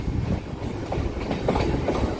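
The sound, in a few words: MEMU train running on rails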